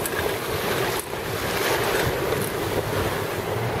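A Drascombe Coaster sailboat runs close along the coast of Schiermonnikoog, with steady wash of waves and water against the hull, heavily mixed with loud wind buffeting the microphone, and no talking.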